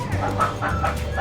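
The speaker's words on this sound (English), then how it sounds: "Oh, chickens!" Chickens cluck in a steady, close jumble of short calls, a busy flock sound with no pauses, at Disney World.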